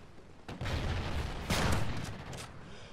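Gunfire in the Call of Duty Ghosts video game, a dense burst of rapid shots with a second sharper volley partway through, fairly faint and compressed.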